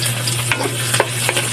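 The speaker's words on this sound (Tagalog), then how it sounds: "So, ang una natin ilalagay is itong bawang." Garlic for adobo sizzles steadily in hot oil, a dense close frying hiss with a few sharp taps of stirring scattered through, no voices.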